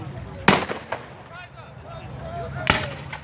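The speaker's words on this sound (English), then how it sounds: "they're kind of drawing them into the artillery fire." Artillery shells bursting in a Civil War video game battle, two sharp, loud booms a couple of seconds apart with fainter pops between, while someone talks over them.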